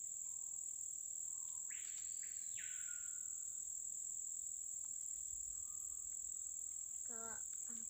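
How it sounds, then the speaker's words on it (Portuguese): A bird calls once in a forest, loud and clear, with a single sweeping whistle. A steady, shrill insect drone runs throughout, and faint chirps sound later on. "o barulho dos pássaros"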